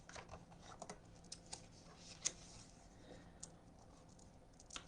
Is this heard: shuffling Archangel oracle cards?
yes